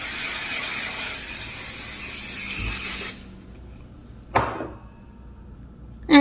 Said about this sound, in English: let's use my Aussie hairspray